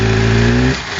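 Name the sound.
car engine revving when accelerating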